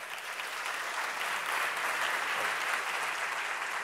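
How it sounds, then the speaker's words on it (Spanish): An audience breaks into dense, even applause for speaker Andy Stalman, a continuous wash of clapping at moderate distance that holds steady throughout. "Aplausos."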